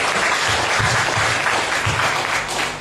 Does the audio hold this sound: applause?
yes